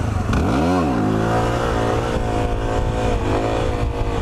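A GS motorcycle passes close by, its engine note sweeping sharply up and back down as it goes past, then settling into a steady nearby drone.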